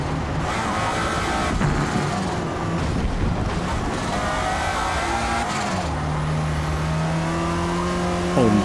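A Lotus Esprit driving at Daytona in Forza Motorsport, its engine a steady loud drone with wind rush and gear-shift pitch changes, the tone dropping and settling into a lower hum near the end, with no talking.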